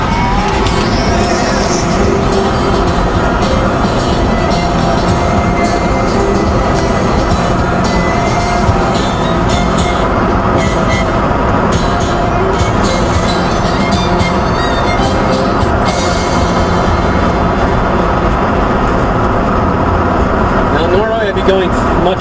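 A car drives along a road in Norway, giving a loud continuous engine and tyre rumble with wind noise throughout, with a voice talking over it at times.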